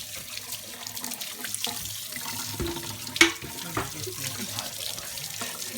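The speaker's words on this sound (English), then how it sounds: "You want to wash your hands because we're gonna start rolling." A kitchen tap runs steadily into a sink while hands are washed beneath the stream, with a brief clatter partway through and soft voices in the background.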